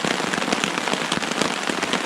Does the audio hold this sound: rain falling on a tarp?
yes